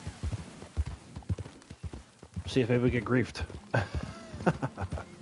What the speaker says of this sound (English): while we ride around on our horse.